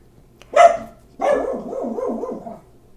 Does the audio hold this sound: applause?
no